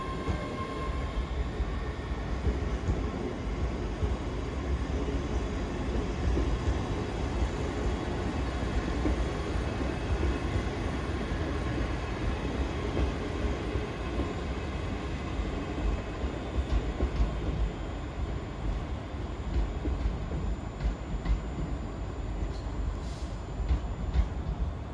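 A ScotRail train departs Glasgow Central bound for Edinburgh Waverley, a steady, fairly quiet rail rumble and wagon clatter carrying on without a break for the whole stretch, with no voices heard.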